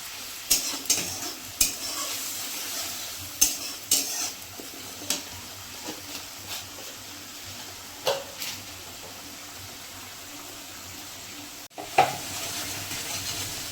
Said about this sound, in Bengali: আমার মশলাটা দেখো ভালো মতো কষানোর জন্য রেখে দিয়েছি